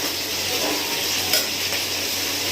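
Spice paste with chilli powder fries while being stirred in a pan, a loud, steady close-up sizzle with a soft scrape and light clink of a utensil partway through.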